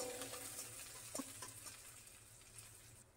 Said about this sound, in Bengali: এখন অল্প একটু পেঁয়াজ আর একটু রসুন দিয়ে দিলাম, এটাকে হালকা একটু ভাজা ভাজা করে নিব।